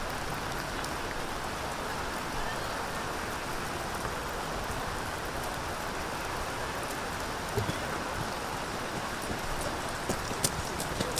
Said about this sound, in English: The rain is coming down heavy here in Almaty.